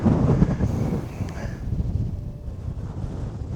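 Strong wind gusting around 40 mph on an elk hunt in Utah buffets the microphone in low rumbling gusts, loud at first and easing slightly, with no voices.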